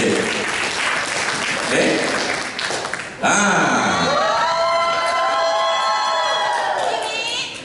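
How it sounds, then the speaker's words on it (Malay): An audience at a motivational talk claps and cheers for mentors, dense applause with shouts and whoops for about three seconds, then a brief spoken word and a burst of lively cheering with high whistling tones that fades at the end. "Berikan tepukan kepada mentor saya iaitu Lauta dan Bisencik."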